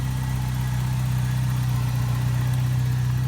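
A 1987 Toyota 4x4 pickup with a turbocharged 22RE-T four-cylinder idles smoothly and close by, a loud, even, low throbbing rumble that holds steady throughout with no voices.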